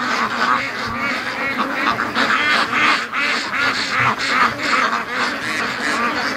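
Roughly 35 young ducks crowd a pen, quacking in a dense, overlapping chorus that stays loud and close throughout, with no voices over it.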